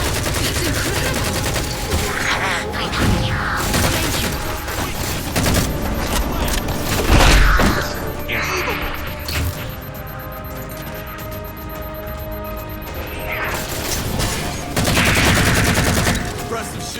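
Gunfire from the video game Halo 4 crackles in dense, loud bursts and rattling volleys across the whole stretch, with heavy booming impacts mixed in.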